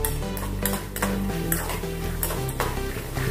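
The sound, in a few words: adding roasted chickpeas to drumstick curry in pan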